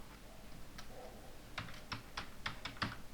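HTML code being typed on a computer keyboard, with a quick uneven run of crisp key clicks that grows busier toward the end, close and clear over a quiet room.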